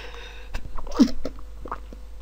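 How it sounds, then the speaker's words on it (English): A single sharp sneeze close to a headset microphone, a brief burst with faint breathing around it. "I sneezed, and I can't turn my microphone off anymore"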